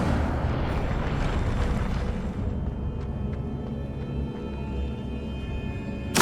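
Fire spell Incendio cast in Hogwarts Legacy, a roaring burst of flame with crackling, explosive texture that rumbles steadily and fades slightly before a sharp pop at the end.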